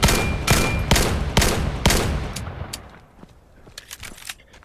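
Rapid back-to-back gunshots from a gun in the VR shooter Vail, a burst of sharp, loud reports in quick succession that thins into scattered fainter shots and echoes.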